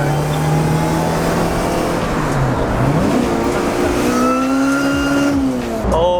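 A car engine with a supercharger revs loudly and continuously, rising and falling in pitch with a steady whine layered over the roar, close by, while people talk underneath.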